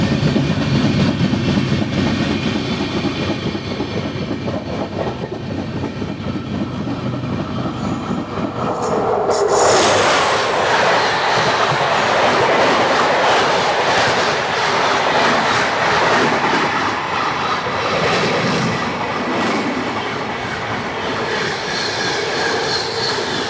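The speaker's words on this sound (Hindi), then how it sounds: "भरूच बाईपास कैबिन पे हमारी ट्रेन की क्रॉसिंग हो रही है।" A Saurashtra Janta Express passenger train crossing the Thiruvananthapuram–Hazrat Nizamuddin Rajdhani Express at Bharuch Bypass cabin: loud, steady rumble and rattle of wheels on rails, with a sudden burst of rushing noise as the other train passes close by.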